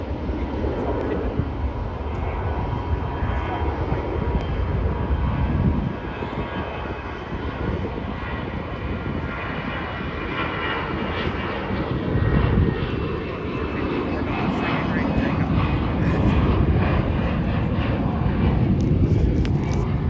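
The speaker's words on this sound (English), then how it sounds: "Here comes another one of them Delta planes." Delta airliner flying in to land at Charlotte airport, a loud sustained jet engine roar that swells and shifts in pitch as the plane passes overhead, continuous for about twenty seconds.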